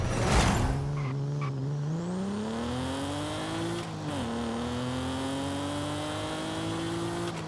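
A Nissan 370Z makes a quarter-mile run in Forza Horizon 5: one loud engine revs up steadily through the gears, pitch climbing with a brief dip at each shift, and no talk over it.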